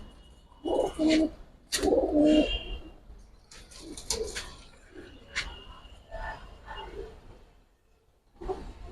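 Giribaz and colouring pigeons cooing close by, a few soft low throaty coos in short bursts with quieter chirps and rustling between them.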